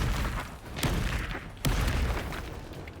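Expulso spell blasts in the Hogwarts Legacy game, heavy booming bursts with two sharp thuds about a second apart over a continuous rumbling battle din.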